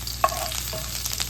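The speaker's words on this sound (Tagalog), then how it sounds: "Garlic, sauté," Garlic sautéing in a pan gives a short, steady sizzle with a couple of brief stirring clicks, close and alone.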